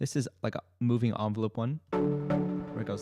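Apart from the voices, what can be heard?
No everyday noise stands out behind the speech.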